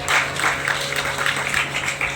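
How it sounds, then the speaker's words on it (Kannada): A crowd of women claps together at a religious discourse gathering, a steady rolling applause of many hands lasting a couple of seconds, close and fairly loud, with faint background murmur. "ಚಪ್ಪಾಳೆ ಹೊಡ್ಕೊಂಡು ಚಪ್ಪಾಳೆ ಹೊಡ್ರಲ್ಲಿ"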